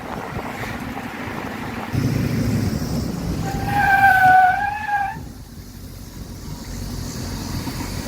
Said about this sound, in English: locked up the brakes, Battle.